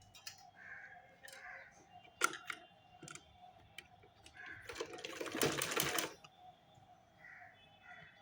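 A sewing machine stitches along a folded pajama hem in a short, faint run of rapid whirring, set among scattered light clicks and taps of handling close by.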